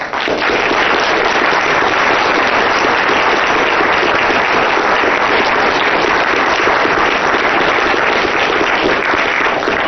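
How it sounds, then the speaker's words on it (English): A room full of attendees at a New Hampshire Executive Council meeting gives a sustained round of applause, dense and even clapping that stays loud and unbroken throughout, with no talking over it. "I just want everybody to really give him a round of applause."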